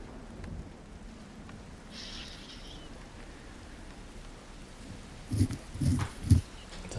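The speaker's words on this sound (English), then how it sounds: "The sound of the rain is louder up here." Heavy rain beats on a roof as a low, steady hiss, broken near the end by a few loud, deep thumps like rumbles or knocks.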